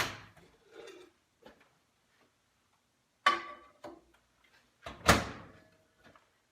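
A plate goes into a microwave and its door shuts, heard as a few close clunks and knocks with a sharp latch-like bang near the end, separated by quiet gaps.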